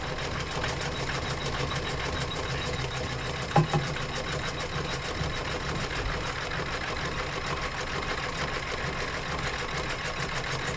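An embroidery sewing machine stitches trivets and tea towels with a steady, continuous mechanical whir and rapid knocking, one brief thump early on, and no voices.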